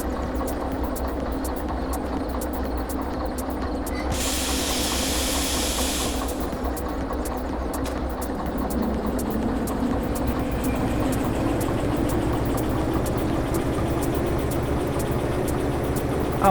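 A steam locomotive in the train simulator Derail Valley idles with a steady low rumble and constant hiss, a louder burst of venting steam for about two seconds early on, otherwise unchanging throughout.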